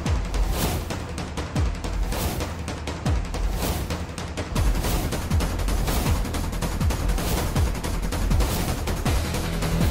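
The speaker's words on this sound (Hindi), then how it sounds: "चला गोली" Rapid bursts of gunfire crack in quick succession in a dramatic scene, a dense fusillade of loud sharp shots repeating across the whole stretch, with no voices heard.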